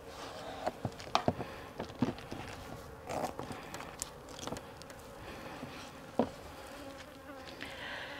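Honey bees buzz during a hive removal while comb is cut and handled, a faint drone punctuated by scattered clicks, knocks and handling noises close by.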